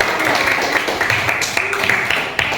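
Classroom audience clapping for a student group at a senior high school, a dense, steady patter of many hands lasting throughout, with some voices mixed in under the applause.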